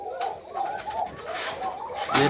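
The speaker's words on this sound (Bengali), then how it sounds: "কবুতরগুলো এখনও ডাকছেই" Koka pigeons coo softly in a farm loft, a series of low repeated rolling calls at close range, with no voices.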